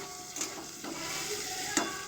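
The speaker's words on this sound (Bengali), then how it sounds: "ভালো করে আলুগুলো ভেজে নিই।" Potatoes fry in a pan with a low, even sizzle, a few clinks and scrapes of stirring breaking through, close and faint, with no voices.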